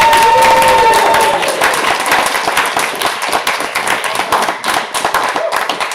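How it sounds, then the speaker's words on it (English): Audience applause for education officer candidates at student union election hustings, a dense burst of clapping over a crowd, with a faint tone at the start that fades as the clapping continues. "can we please give our education officer candidates a massive round of applause?"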